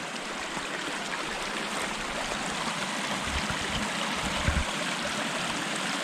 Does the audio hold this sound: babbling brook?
yes